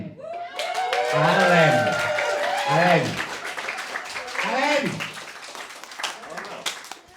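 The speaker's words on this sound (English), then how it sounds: "So give him a big round of applause." At a stand-up comedy show, an audience claps and cheers loudly for several seconds while someone talks over the applause, which then fades to scattered claps.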